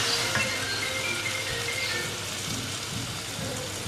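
A cup of thick curd goes into sizzling jackfruit biryani masala in the pan, giving a steady, close frying hiss with no voices.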